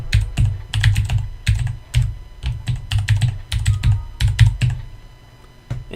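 Rapid keystrokes on a computer keyboard as a game console command is entered, clicking in uneven bursts with short pauses, close and fairly loud, with no talking.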